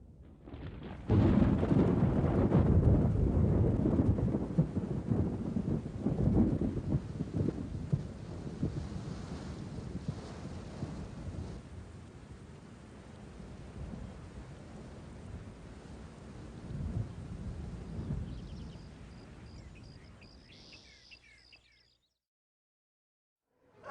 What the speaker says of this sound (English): That's why we're glad when it rains, too.